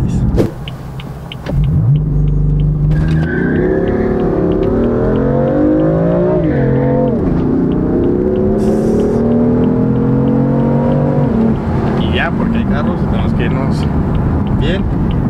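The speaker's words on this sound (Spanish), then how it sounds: "Y eso que está stock, y aún así con el puro sonido del escape o del motor" A stock BMW M4 drives along with a steady engine rumble and exhaust note that rises and falls as it accelerates, heard from inside the car, with people talking over it.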